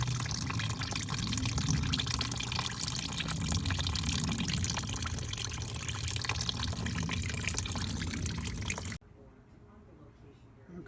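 Car coolant, Dex-Cool, draining from the cooling system into a pan: a steady close rushing, splashing stream that runs for about nine seconds and then stops abruptly, leaving quiet room tone.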